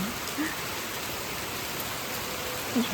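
Steady rain falls in a dense, even hiss with no breaks, close and moderately loud, with a couple of faint chirps or voices barely rising above it.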